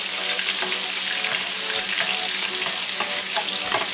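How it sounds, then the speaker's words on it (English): A cod fillet pan-frying with butter in a skillet, a steady close sizzle and crackle with small pops throughout, with no talking. "Now while our fish is cooking, I'm just gonna add a little bit of butter here."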